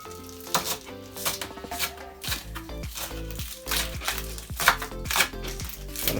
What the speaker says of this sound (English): I'm gonna slice up my spring onion.